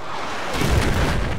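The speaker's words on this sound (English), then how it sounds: "That jet just crashed into me." A jet crashes into a player in the Battlefield video game, heard as a swelling low rumbling impact that builds after a brief lead-in and sustains a roar over steady background battle noise.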